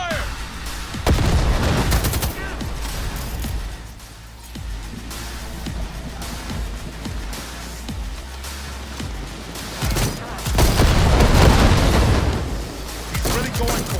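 A chaotic firefight in Cyberpunk 2077, with bursts of gunfire, heavier blasts and cracks layered over a steady rumble that swells loudest near the start and again toward the end, with occasional game dialogue.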